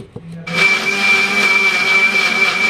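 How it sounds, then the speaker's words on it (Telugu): After a brief quiet moment, a mixer grinder kicks in loudly, pulverizing three onions into a paste with a steady, high whirring whine that runs to the end. "ఫస్ట్ ఒక 3 ఉల్లిపాయలు తీసుకొని ఇది మొత్తం మిక్సీ కొట్టాలా."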